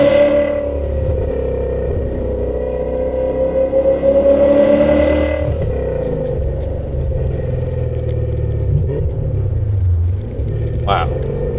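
A 2000 BMW E39 M5 with a V8 engine is driven on the road, heard from inside the cabin as a steady low engine drone with rising revs and a shifting pitch, continuous and loud throughout.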